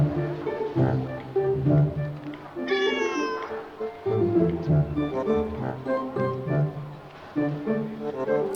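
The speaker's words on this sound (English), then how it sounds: "My beloved cat, Momo." Momo the cat, stranded up on an awning in the game Detective Di, gives one short meow partway through, rising clearly above a continuous backdrop of layered instrumental music.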